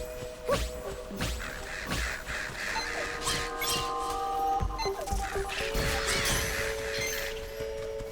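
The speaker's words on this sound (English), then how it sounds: "Summon my bird swarm." A summoned swarm of birds caws in the Zelda: Echoes of Wisdom video game. Scattered harsh calls and swooshing hits sound over steady, tonal game music.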